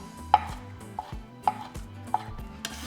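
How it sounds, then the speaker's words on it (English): A knife chops pickled jalapeño on a cutting board with about four distinct blade strikes at an uneven pace, close up, over soft background music, with no one talking. "Next we have the pickled jalapeno. And you can remove the seeds if you want. Just going to finally chop them."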